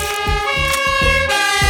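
A cartoon fire truck in a kids' vehicle puzzle game sounds a loud, sustained horn tone, while a rhythmic siren pulses underneath in quick repeated beats.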